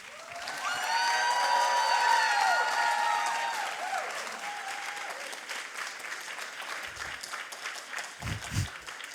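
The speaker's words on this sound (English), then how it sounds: "Big applause for Katarina Krivokucha." Audience applause at a Berlin science slam, steady clapping with some cheering and whoops, a held electronic tone ringing over the start, fading under light sounds toward the end.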